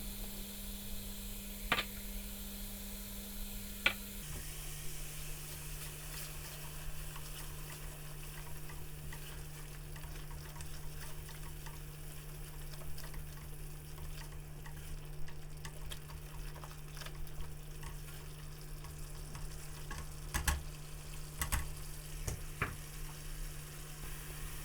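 A sauce of fenugreek leaves, coconut powder, mango chutney and sugar sizzles steadily in a pan, a soft continuous fry with a few faint clicks of stirring and no talk.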